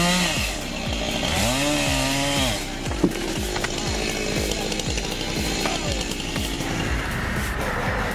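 A big chainsaw roars loud and close as it cuts wood, its engine pitch bogging and rising under load in repeated surges.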